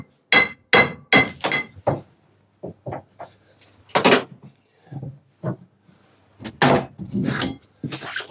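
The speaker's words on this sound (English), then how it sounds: "So it's a case of having to crowbar things out, which is not a great way of doing things." A crowbar pries stuck self-tapper screws out of a horse trailer floor, producing sharp metallic knocks and clanks in irregular bursts, close and loud with quiet gaps between strikes.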